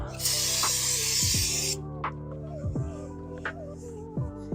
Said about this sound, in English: We're gonna have to brake clean them.